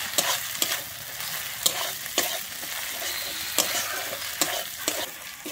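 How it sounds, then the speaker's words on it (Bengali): Ginger paste hissing and sizzling in a pan, broken by sharp, irregular clacks of a spoon stirring against the metal. "আমি আদাটা দিয়ে খুব ভালোভাবে এখানে ভেজে নেব"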